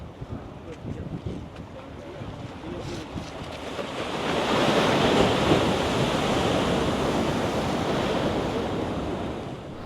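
Sea waves rolling against the sea wall at Azheekal beach in Kerala, a broad roaring wash that swells louder midway and holds, with wind buffeting the microphone.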